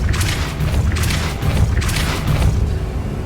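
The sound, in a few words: Repulso spell blast in the video game Hogwarts Legacy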